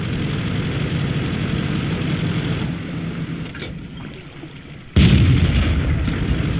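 A tank cannon fires in World of Tanks, a sudden loud boom cutting through steady engine rumble and low battle noise, after a brief lull.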